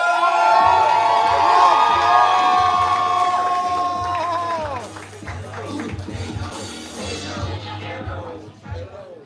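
An audience at a poetry slam in Houston cheers and whoops loudly for several seconds, then fades into scattered clapping and shouts before quieting toward the end.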